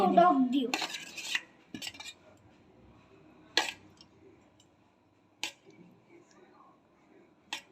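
A metal spoon clinks against dishes while chatpati, a spicy Bangladeshi street snack, is being served, giving a few sharp separate clinks and scrapes between quiet pauses, with a louder clatter at the start and soft household voices in the background.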